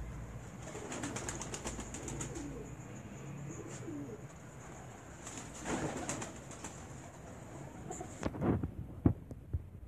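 Pigeons on a rooftop coo and rustle close by, with soft repeated calls and fluttering under a steady background hum, followed by a few sharper wing flaps near the end.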